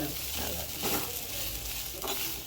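Ginger and coconut sauté in a pan, a close, continuous sizzle with rustling stirring strokes scraping through it in uneven bursts.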